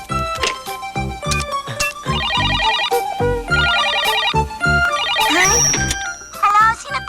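A telephone in a Doraemon cartoon episode rings with a loud, bright, melodic ringtone in repeated bursts over busy music and effects.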